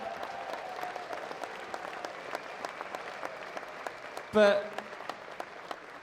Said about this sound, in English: I think we should have a round of applause for our nominees and winners so far this evening.